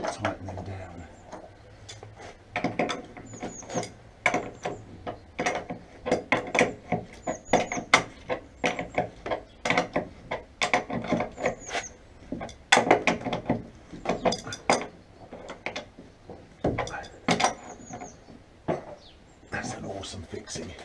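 Resin-fixed studs on a timber carport frame are tightened down with a ratcheting tool, giving many quick clicking ratchet bursts and knocks in an irregular rhythm, close by and moderately loud over roughly twenty seconds, with brief pauses between.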